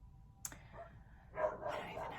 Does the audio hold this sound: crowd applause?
no